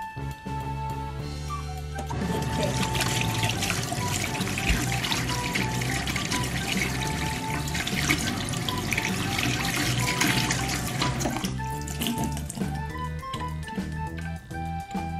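Tap water pours steadily into a sink while hands are washed with soap, a loud continuous splashing rush that drops back to a quieter hum near the end.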